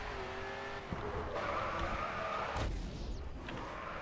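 Race car engine roaring at high revs with tyre squeal while drifting through a corner in the racing game Grid 2, loud and continuous, with a shift in pitch partway through.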